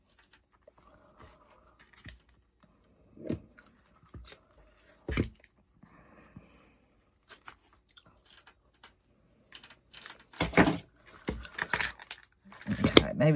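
Scissors snip during a patriotic DIY Americana craft project: sparse, sharp cutting clicks arrive in short bursts with quiet gaps between, growing busier toward the end, with no talking.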